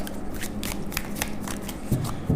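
Tarot cards being handled and drawn from a deck, with quick papery riffles and soft slides repeating through the clip, close and fairly quiet, ending in a couple of slightly firmer card taps.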